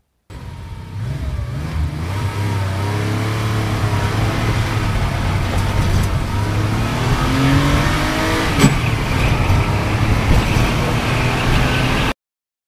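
A car in Sakura School Simulator drives steadily, its engine droning loud and close with rising and falling revs as it accelerates, and a brief click partway through. No one speaks over it.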